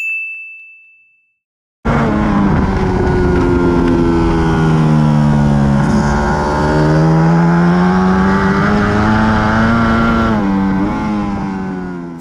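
A MotoGP motorcycle engine revs loud and close, pitch rising and dipping as it accelerates hard out of a corner, after a brief tone and a short silence.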